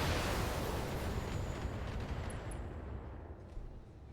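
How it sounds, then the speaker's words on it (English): An ammunition explosion in the video game BattleTech sounds as one loud, broad rumbling blast that fills the clip and slowly decays over several seconds. "Ammo explosion."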